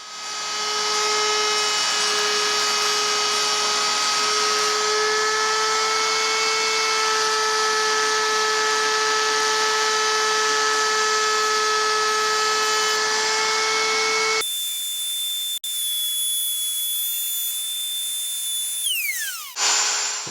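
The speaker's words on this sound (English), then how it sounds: "So now we're going to go to my custom table router here and just route off the edge" A custom table router trims the edge of a Les Paul guitar fretboard along a template, a loud, steady high whine that cuts off abruptly and then spins down near the end.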